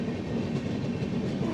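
Steady rumble and rolling clatter of a new LHB coach on the Paharia Express passenger train, Howrah to NJP and Digha, heard from inside the carriage as a continuous close drone without talk.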